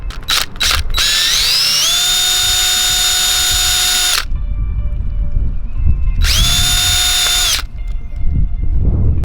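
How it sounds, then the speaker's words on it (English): Power drill boring a hole into a BMW E46 for a backup camera, loud and close, two long sustained whines with a rising pitch at the start of each, separated by a short pause and a few brief blips at the start. "I'm drilling it right in the middle."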